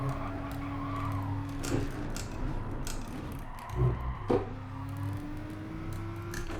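A car's tires skid and squeal under heavy braking in the Gran Turismo Sport racing game, a moderate engine drone dropping in pitch with brief scrubbing bursts, then the engine revving back up.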